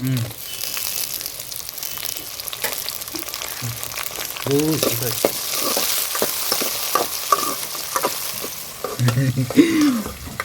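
Tomatoes fry and get stirred in a pan with a continuous sizzle and scraping, close and fairly loud, while voices talk intermittently over it.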